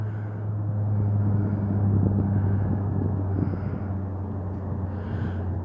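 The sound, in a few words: airplane flying overhead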